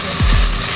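Spice paste with ground almond frying in a pot for hilsa pulao, a brief loud sizzle with a couple of quick scraping stirs, close and alone.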